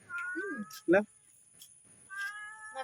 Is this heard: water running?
no